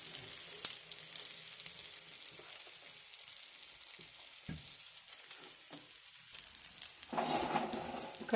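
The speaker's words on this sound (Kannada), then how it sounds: "ಶಾಲೋ ಫ್ರೈ ಮಾಡೋಣ." Colocasia leaf patrode rolls shallow frying in a pan, a soft steady sizzle running throughout, with faint scrapes and a brief louder burst of crackling near the end.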